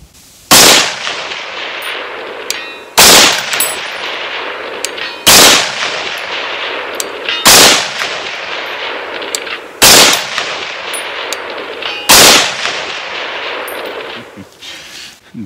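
A PSA Sabre .308 rifle firing ball ammunition outdoors: six loud, sharp gunshots spaced about two and a half seconds apart, each with a trailing echo that fades before the next.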